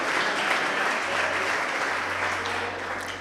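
A church congregation applauds steadily throughout, a dense, sustained wash of many hands clapping in a large hall, loud and continuous with no talking over it.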